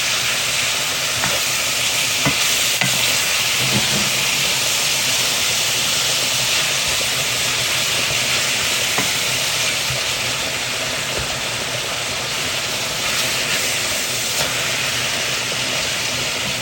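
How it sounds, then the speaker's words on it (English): Plain steak frying in a pan, a loud, steady sizzle close by with occasional stirring clicks and scrapes scattered through, no talking. "I'm gonna cook this plain steak until she is done"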